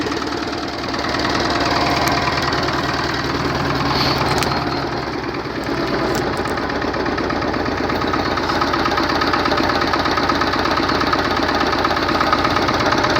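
A 30-year-old Xingtai 120 tractor engine runs loud and close, its steady knocking chug holding an even rhythm throughout.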